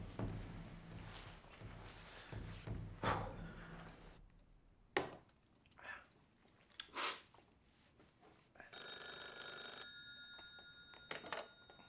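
A telephone rings in a quiet room, a repeated electronic trill in the latter half, preceded by handling noises, thumps and footsteps.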